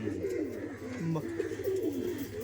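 Bangladeshi teddy pigeons cooing close by in a loft, steady low rolling coos repeating throughout, with a voice speaking briefly underneath.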